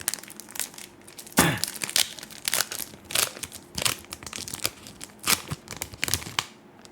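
Close crinkling and tearing of a thin plastic Yu-Gi-Oh booster pack wrapper in irregular bursts, with soft rustles between.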